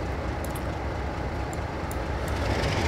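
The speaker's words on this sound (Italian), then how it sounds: "Facciamo andare il treno" A model railway train runs on a home-built layout, giving a steady, continuous rolling rumble with faint clicks on top, fairly close and with no voices.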